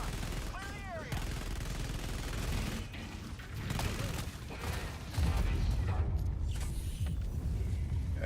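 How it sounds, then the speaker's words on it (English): Multiple mortar strikes from a Helldivers stratagem blasting in a video game, a dense, continuous rumble of explosions and gunfire, louder and heavier toward the end, with speech mixed in. "Somebody used the multiple stratagem glitch and used multiple mortars"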